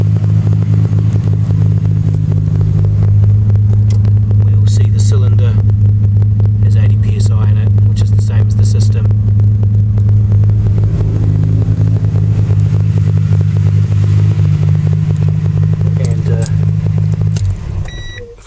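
A car engine idles steadily with an Accusump oil accumulator fitted, a loud continuous low rumble running nearly the whole time before cutting off at the end.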